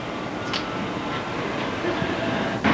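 Steady low rumble inside a moving train carriage, fairly empty, with a continuous broadband roar and a couple of brief higher clacks or rattles, heard alone at close range.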